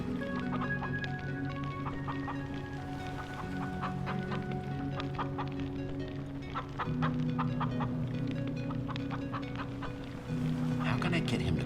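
Chickens cluck and squawk in the video game Minecraft: Story Mode, with repeated short clucks over a steady droning background score that runs throughout.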